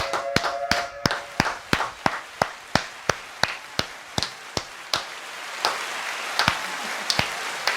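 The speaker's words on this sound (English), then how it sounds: "Slow clap." A slow clap, single sharp handclaps repeating at a steady, unhurried pace, about twenty in a row, close and alone, without any voice.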